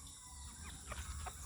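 Pure Texas gamefowl rooster with green legs, a few faint clucks and soft calls close by over a low hum of background noise.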